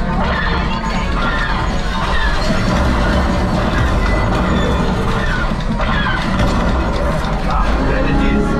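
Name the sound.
train in a video game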